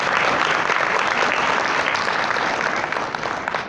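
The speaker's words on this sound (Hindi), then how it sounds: "बजाओ ताली बजाओ" A crowd at a spiritual discourse by Shri Gurudev Madhusudan Bapu ji breaks into loud, dense clapping that holds steady for a few seconds and then begins to thin out.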